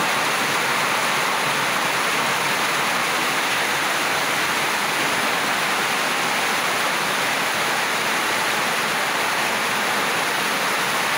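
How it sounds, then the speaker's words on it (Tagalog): Water spills over the edge of a tank in a loud, unbroken rushing hiss, like a small waterfall, which holds steady from start to finish with no voices. "Wala na, hinaapaw ito, wala nang pan. Naubos ang tubig sa apaw."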